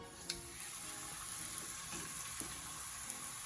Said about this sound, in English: And then we're just gonna fry it off really quickly.